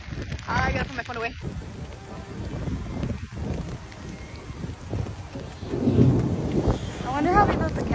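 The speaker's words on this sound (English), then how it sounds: "Oh, it's raining harder." Heavy rain pours during a thunderstorm at a Disney theme park under a tornado warning, a steady wash of downpour with gusty wind and rumbling swells, while people talk nearby throughout.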